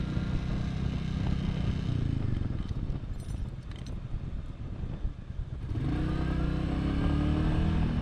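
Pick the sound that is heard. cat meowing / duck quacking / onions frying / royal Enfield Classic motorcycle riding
royal Enfield Classic motorcycle riding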